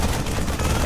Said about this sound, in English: This Marine being shot at.